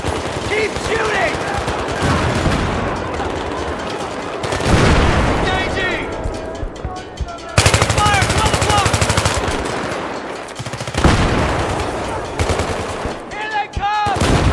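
Machine gun fire rattles in long, dense bursts in the video game Battlefield 3, loud and close, with a few booming impacts and shouted voices in between.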